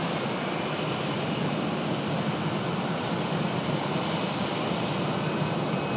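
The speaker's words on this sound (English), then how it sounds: "We've got a very loud A319 below us here" A loud American Airlines Airbus A319 jet passes close overhead on approach to Raleigh-Durham airport, its engines a steady broadband roar that holds at full strength for the whole stretch, with no voices.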